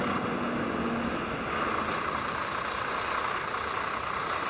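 In a truck simulator game, a truck engine rumbles steadily at low volume, a continuous droning hum with no distinct gear changes and no speech.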